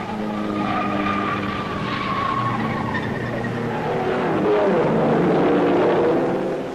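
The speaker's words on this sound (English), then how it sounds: "But hard on his heels all the time are Behra's Maserati and Hawthorne's Ferrari." 1950s Grand Prix race cars, including a Maserati and a Ferrari, roar past at the British Grand Prix, engines rising and falling in pitch over a continuous loud racing din with no voices.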